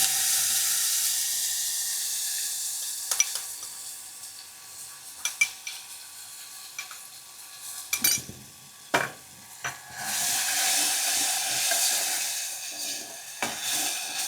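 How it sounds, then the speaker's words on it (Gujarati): Garlic paste sizzling in hot oil in a pot for Gujarati dahi kadhi, a steady soft hiss with occasional sharp clinks of a stirring spoon against the pan. "હવે આપણે આને એકાદ મિનિટ જેવો તેલમાં સાતળી લઈ"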